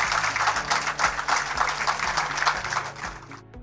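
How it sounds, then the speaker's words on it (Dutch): Audience applause at a contract signing ceremony between Suriname and Morocco, a dense patter of many hands clapping at moderate distance, steady for a few seconds and then tapering off quickly. "Ik denk dat we op een applaus."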